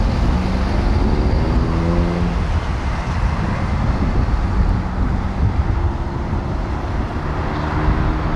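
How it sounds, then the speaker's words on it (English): Cars turning at a traffic light intersection on Waterton at S. Wadsworth Blvd, with a steady roadway rumble and engine hum throughout and some wind noise on the microphone. "We have a couple of cars ready to turn on Waterton."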